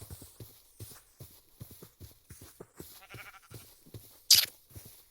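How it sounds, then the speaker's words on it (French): Sheep in a survival-crafting video game bleat among rhythmic clip-clop footsteps and crunching, with a sharp bright burst near the end; no voices. "Couvre-moi, je vais choper les moutons, frère."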